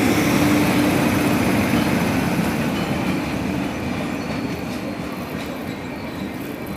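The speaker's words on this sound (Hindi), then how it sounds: "वो देखो आ गई। नई दिल्ली त्रिवेंद्रम सेंट्रल केरला एक्सप्रेस।" An Indian Railways New Delhi–Trivandrum Central Kerala Express arriving, a loud, steady rumble of train wagons with faint wheel squeal, easing slightly in level as it rolls past.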